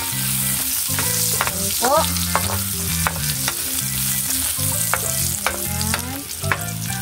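Garlic fries in rendered pork fat, with a loud steady sizzle and crackle and stirring scrapes close up, while someone speaks briefly.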